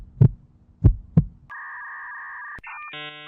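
Heartbeat sound effect: three deep, soft thumps in a loose lub-dub rhythm, followed by a steady electronic tone and a short burst of beeps, with no talking.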